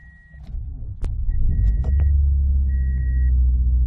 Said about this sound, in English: Okay, she fired right up.